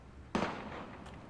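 A single sharp gunshot-like blast from the video game Valkyria Chronicles, with a quick loud crack that decays into a lingering echo, followed by a faint second pop.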